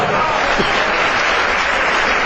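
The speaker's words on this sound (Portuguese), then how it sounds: "Você pode aplaudir ao Espírito Santo nessa noite" A church congregation breaks into sustained applause during an evening service, a dense, even wash of clapping filling the room with faint voices beneath.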